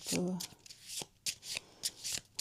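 Playing cards being shuffled for a three-card tarot-style reading, heard as a series of quick riffling bursts with short gaps between them, close and fairly quiet, with a brief voice near the start.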